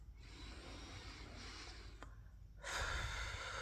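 A long, slow breath drawn in close to the mic, followed by a louder rush of air.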